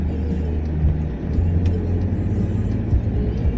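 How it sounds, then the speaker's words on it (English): Road traffic heard from inside a moving car in California, a steady low engine and road rumble with faint passing vehicles, no talking. "This traffic is horrible."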